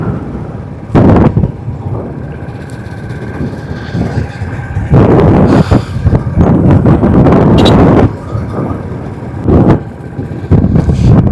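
A two-wheeler riding along Gap Road in Munnar, engine hum buried under loud, gusting wind buffeting the microphone, with surges of roar rising and falling throughout.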